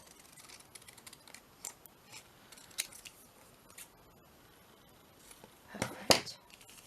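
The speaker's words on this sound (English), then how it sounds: "So I'm just going to cut this down like this." Scissors cut a paper bag in faint, sparse snips close by, ending in a louder rustle and crunch.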